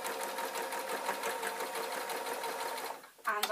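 A sewing machine runs in one steady, continuous burst, stitching a long seam on a waistcoat, then cuts off near the end with a short clack of the mechanism.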